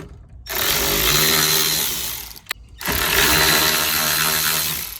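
Power tool whirring as two 7mm screws are driven out of a dash vent in a 1991 Chevy, two loud sustained bursts close up with a brief pause between them.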